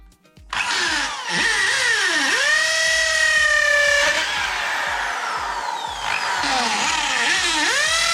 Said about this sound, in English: give it a drill.